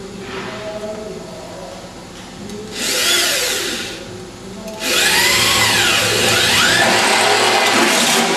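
A power drill whirs in two bursts, a short one followed by a longer, louder run, with rising and falling pitch as it bites into a panel.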